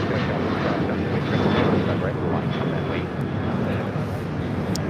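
A Boeing 747 landing at LAX fills the air with a continuous, loud, broadband jet roar mixed with wind buffeting on the microphone, steady over several seconds.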